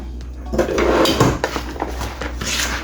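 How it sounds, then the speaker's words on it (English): Seasoned cabbage stirred together in a pot, with close clattering and scraping of a utensil against the metal, a few distinct knocks and rustles over a low steady hum. "So just stir everything together."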